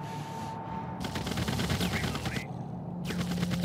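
Automated turrets fire in the sci-fi strategy game The Red Solstice, with rapid machine-gun bursts rattling continuously at close range and brief pauses between volleys.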